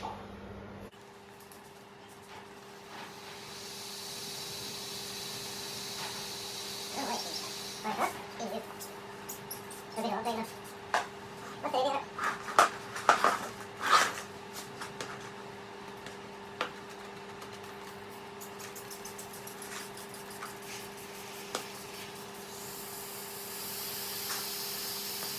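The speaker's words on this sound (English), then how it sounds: "We're just going to spray over it and see if we get bubbles anywhere." Soft hissing bursts of a spray bottle of soapy water come and go over a steady electrical hum, with scattered clicks and handling noises in between.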